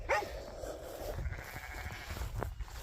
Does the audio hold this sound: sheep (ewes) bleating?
yes